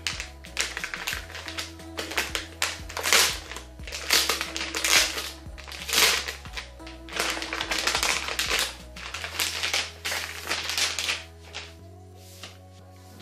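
A small red parcel from a mailbox is torn and crinkled open by hand. Crisp bursts of ripping and rustling packaging repeat irregularly at close range, with no talking.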